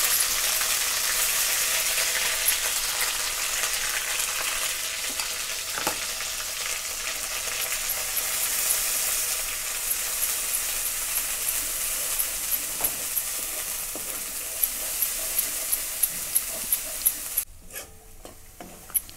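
Onion-tomato masala paste sizzles in hot oil in a kadhai, a steady bright frying hiss with occasional clicks of a spoon stirring, close and alone without talk.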